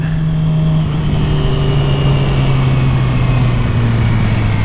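A Yamaha R6 sport motorcycle accelerating hard in third gear, a loud steady engine roar with a rising high-pitched whine, close and continuous, no voices.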